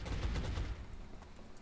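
Rapid gunfire bursts from a squad's holo-targeted shots in the turn-based strategy game XCOM Long War, a short cluster of sharp reports fading into a softer tail.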